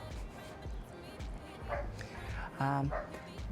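A dog barks a few times at uneven intervals, with short yips standing out over muffled low background noise.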